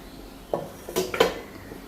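A few short clinks and clatters of dishes being handled and set down, close by, in a quiet room.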